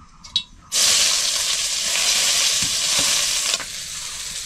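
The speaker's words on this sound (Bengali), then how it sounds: "ঘাটকলের ডগাগুলো ভেজে নেব।" Ghetkol stalks drop into hot oil in a wok and a loud, steady sizzle follows, close up and continuous after a brief clink.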